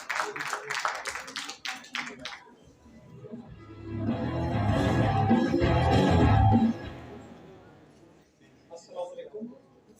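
Clapping from the crowd at the 2023 Tullybell sports awards ceremony fills the first couple of seconds as quick, distinct claps. A louder, muffled stretch of voices and room noise follows, and a few faint claps return at the end.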